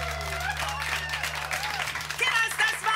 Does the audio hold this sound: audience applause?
yes